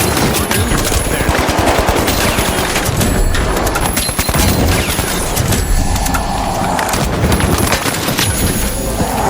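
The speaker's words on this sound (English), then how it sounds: "You can just keep shooting and reloading and shooting and reloading and shooting." Dense, loud automatic gunfire from the video game The Finals fills the whole stretch, rapid bursts of shots with reload clicks and impact crashes, mixed with game effects and faint talk underneath.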